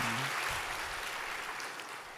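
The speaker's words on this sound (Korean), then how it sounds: "박수합시다." A church congregation applauds in a steady wash of clapping, fairly faint and even, after a brief trailing voice at the start.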